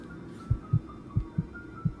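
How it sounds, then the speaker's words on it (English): A heartbeat sound effect from a horror story: slow paired thumps, deep and close, beating steadily over a faint low hum, with no voices. "Oh, hell no, we're not doing this heartbeat stuff in my ear."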